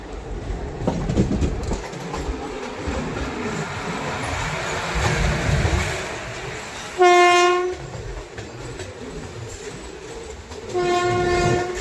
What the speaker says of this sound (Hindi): सामने से कोई ट्रेन से क्रॉसिंग हो रही है, देखते हैं कौन सी ट्रेन है ये।